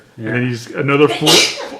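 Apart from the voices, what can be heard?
sneeze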